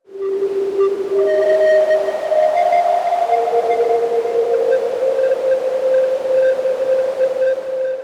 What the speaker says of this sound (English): tone that reminds a little of the sonar ping of a submarine